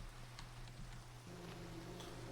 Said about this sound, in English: This rain has been non-stop.